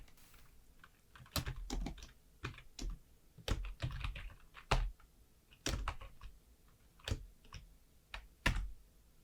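Typing PowerShell code on a computer keyboard: sparse, crisp key clicks in irregular bursts, with several louder single presses, close and quiet, no talk.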